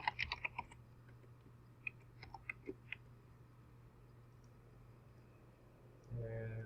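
Scattered keystrokes on a computer keyboard during an online application form, a quick flurry at the start and a few isolated taps after, faint and close, with a steady low hum and a louder noise near the end.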